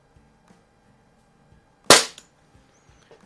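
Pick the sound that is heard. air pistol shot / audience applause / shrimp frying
air pistol shot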